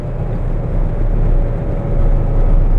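A 1962 Porsche 356 B Carrera 2 driving, with a loud, steady low engine drone and rumble that stays close throughout the short stretch.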